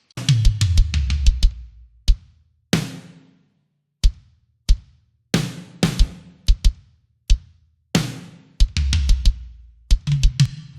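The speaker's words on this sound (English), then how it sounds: "So with the kick, snare, and toms, they all sound like this." Mixed MIDI drums from a Logic kit play a loose groove of sharp kick, snare and tom hits with clear gaps between them, several quick clustered fills, reverb tails, and no voices.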